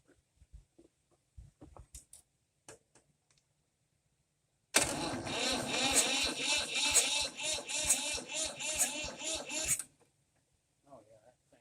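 A Fordson Dexta tractor engine, fitted with a bigger battery, cranks and catches, running rough and loud for about five seconds before cutting out, with faint clicks and scattered sounds before and after.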